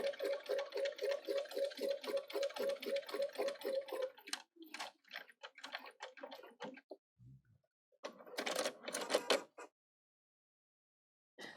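A Bernina 770 sewing machine stitches binding in a fast, rhythmic run of close, pulsing needle strokes for about four seconds, followed by shorter bursts, clicks and a pause.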